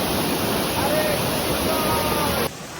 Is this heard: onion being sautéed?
no